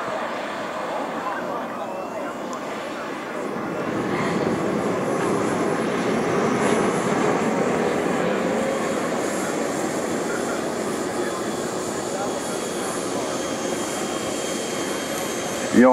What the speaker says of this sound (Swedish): Den väger 11 kilo och har en 7 kilos turbin.